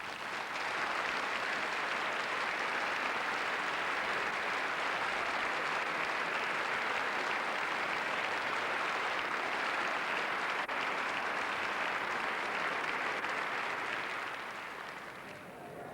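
An audience at the BBC Young Musician of the Year 1991 woodwind section applauds the other six contestants, producing a dense, even roar of clapping that holds steady and loud for the whole stretch before tapering slightly at the end.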